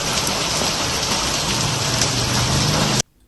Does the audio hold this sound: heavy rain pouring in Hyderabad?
yes